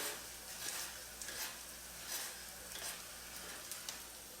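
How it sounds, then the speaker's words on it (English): Grits being stirred in a pot on the stove, a soft, steady scraping and bubbling texture with faint spoon strokes repeating every second or so, quiet and close. "At that point, I just stir them up a little bit"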